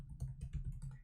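A web address being typed on a computer keyboard: a quick run of about half a dozen soft, close key clicks in a brisk, slightly uneven rhythm, with no talking.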